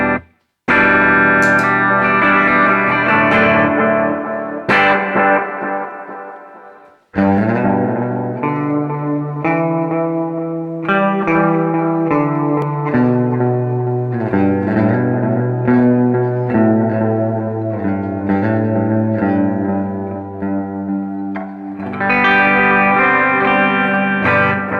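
Guitar played through a Keeley Caverns V2 delay and reverb pedal, with chords and melodic notes trailed by pronounced echoes and a reverb wash, loud and continuous with a couple of brief breaks.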